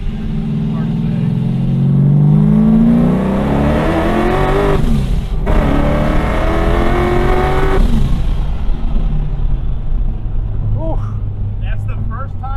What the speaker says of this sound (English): That's the first time since it's been tuned that I've floored it and it's hooked.